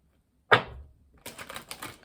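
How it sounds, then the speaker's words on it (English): A deck of cards is shuffled up close: one sharp riffling snap is followed by a pause, then a rapid flurry of soft papery flicks. "I'm going to give these a little bit of a shuffle"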